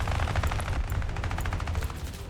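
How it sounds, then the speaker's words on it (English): Aircraft machine guns rattle in War Thunder, a dense continuous burst of rapid fire layered over a steady low engine drone, loud and close throughout with no talking. "Not the most accurate fire, but shots are splashing off of him."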